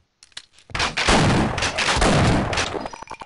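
Sustained bursts of M249 machine gun fire in the Half-Life: Opposing Fronts game, loud and dense for about two seconds after a few scattered single shots, then trailing off into spaced echoing reports.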